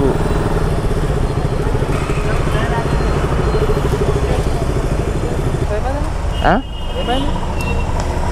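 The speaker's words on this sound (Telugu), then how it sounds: "ఇక్కడ ఎందుకో ట్రాఫిక్ జామ్ అయింది" Congested road traffic near a motorcycle showroom: a dense, continuous, loud rumble of motorcycle and vehicle engines idling and moving close by, with a brief rising horn-like tone near the end.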